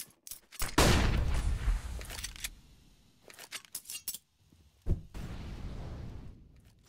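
Desert Eagle pistol shots in a Counter-Strike match on the Cache map ring out as a few sharp, loud cracks, with an opening burst followed by scattered gunfire and clatter.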